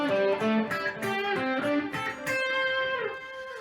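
A distorted electric guitar plays a quick pentatonic run with string skipping, separate picked notes each ringing briefly, leaping between pitches in a steady melodic line.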